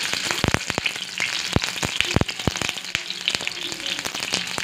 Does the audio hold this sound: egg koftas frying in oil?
yes